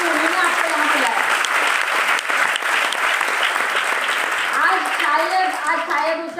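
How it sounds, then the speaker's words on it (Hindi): Loud, sustained applause from an indoor audience at an MI Lifestyle program in Ghatkopar, dense clapping filling the whole stretch with a voice speaking over it. "उनका एक बार जोरदार तालियों से उनका शुक्रिया अदा करिए"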